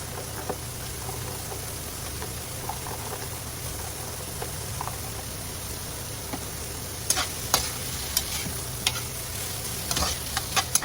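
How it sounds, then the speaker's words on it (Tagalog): Carrots sizzle in a hot pan as they are stirred, a steady frying hiss with scattered scraping clicks from the utensil, growing busier toward the end. "Ilagay na po natin ang ating carrots."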